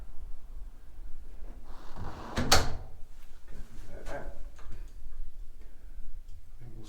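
A door swinging shut under a newly adjusted replacement door closer, one soft thud and latch click near the middle, with faint handling noises before and after.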